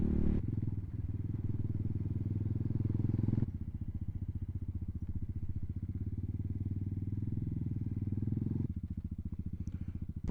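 A fully modded 2022 Amazon Hawk 250 motorcycle rumbles close up with a rapid, even engine pulse, its tone shifting abruptly twice as the rider changes throttle and gears, including heavy engine braking.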